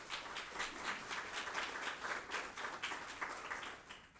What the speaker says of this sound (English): So I'd love if we could give Yvette and Michael a round of applause for their efforts